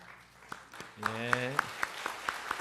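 A church congregation at Sunday worship gives a sparse, light welcome applause, distinct single claps spaced out in a loose rhythm, while a voice briefly speaks over them partway through.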